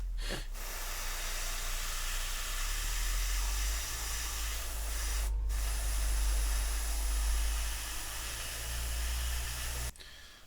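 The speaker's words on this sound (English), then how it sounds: "I'm aiming the airbrush upwards at this point, and that hopefully will just avoid any paint getting down underneath." An airbrush sprays camouflage blue paint onto the funnel of a 1/144 Revell Flower Class corvette model, producing a steady close hiss that runs almost unbroken for ten seconds, with two brief pauses.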